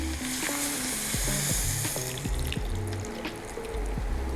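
Anchovy stock made from a dashi pack is poured into a pot of sizzling vegetables, meat and doenjang soybean paste, a loud close frying hiss mixed with watery splashing and bubbling.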